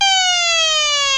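A homemade portable motion-detecting alarm sounds a loud, continuous electronic tone that slides slightly downward in pitch, steady with no pauses.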